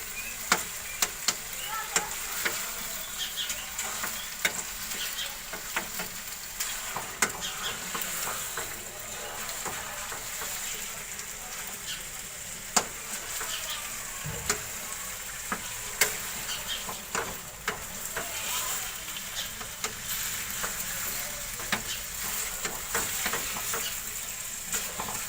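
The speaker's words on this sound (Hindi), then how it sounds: "बहुत अच्छी तरह से आपने इसको फ्राई करना है।" Chicken pieces fry in a pan for a restaurant-style chicken shorba, sizzling steadily while a spoon scrapes and stirs with frequent clinks against the metal, all fairly close and without talk.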